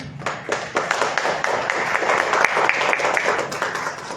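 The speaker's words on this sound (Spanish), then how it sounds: "un aplauso para Zulay, por favor" An audience at a poetry reading in a library hall gives steady, full applause from many hands throughout, dense and fairly close, with a faint voice underneath.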